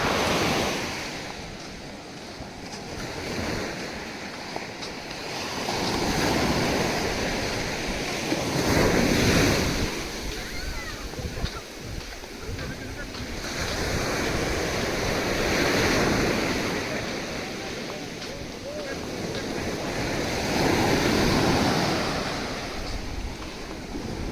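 Ocean surf rolling onto Tilmati Beach in Karnataka, a beach of dark sesame-like sand: broad waves swell and break every few seconds over steady wind rumble, with no voices.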